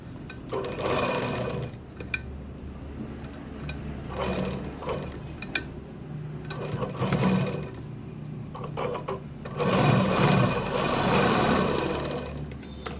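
Sewing machine stitching fabric for a Gudi Padwa saree, running in several bursts of fast, steady whirring separated by short pauses, close and fairly loud.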